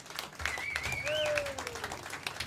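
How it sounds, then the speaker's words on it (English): A live comedy audience applauds a performer, a dense patter of clapping with a couple of whistles cutting through above it. "please give him a big round of applause just for being Chris Finnan"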